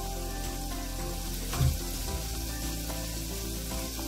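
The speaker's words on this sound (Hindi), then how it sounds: "टमाटर और अदरक को भून लेते हैं इसमें।" Chopped tomatoes and ginger fry in a pan with a constant, close sizzle and one brief stir or scrape partway through. There is no talking.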